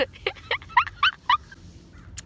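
A bird calls in a rapid series of about six sharp, squawking notes, fairly close and loud, followed by a quieter short call and a faint chirp at the end.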